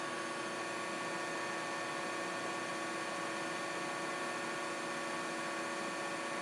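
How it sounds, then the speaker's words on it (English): The AC motor of a Mikini 1610L lathe runs at base frequency, a steady, even electrical whine and hum with a constant pitch and no variation in level. "you can hear the motor sounds really good, of course, at its base frequency"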